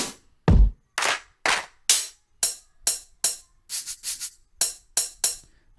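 A simple programmed hip-hop beat of sharp drum machine claps in a steady pattern, with crisp hi-hat ticks between them, punchy and dry with no voices.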